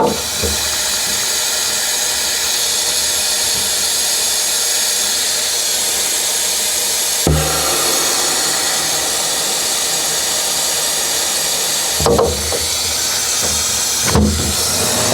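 A pressurized chamber at an off-grid biohacking setup is switched on and pressurizes, giving a loud, steady broadband hiss that runs nearly unbroken, interrupted by a few brief thumps toward the end, with no talk.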